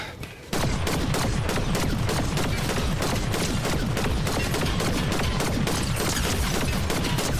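Dense, rapid gunfire in Fortnite erupts after a brief pause and continues nonstop, loud and close, a relentless barrage of overlapping shots.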